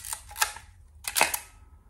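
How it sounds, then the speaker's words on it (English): The shutter of a Topcon Auto 100 35mm SLR film camera fires with two sharp, close mechanical clacks about three quarters of a second apart, alone in quiet. "Now, listen to this shutter. It sounds like a rifle, like an old school sniper rifle"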